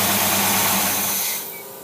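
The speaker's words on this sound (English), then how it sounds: "it's going to stall the engine out" Car engine fitted with a Rochester Quadrajet carburetor, running on an over-rich mixture: a rough, loud idle that suddenly drops away as the engine stalls out, leaving near silence.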